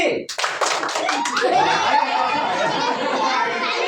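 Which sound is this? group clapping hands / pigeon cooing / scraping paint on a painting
group clapping hands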